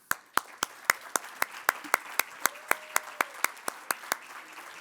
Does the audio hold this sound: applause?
yes